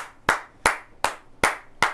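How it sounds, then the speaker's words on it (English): A few people clap in a slow, steady rhythm, five sharp, evenly spaced claps that ring out clearly against a quiet background with no talking. "We're at a point where we're clapping for this man"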